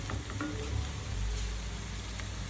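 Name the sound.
ginger paste frying in oil for chicken curry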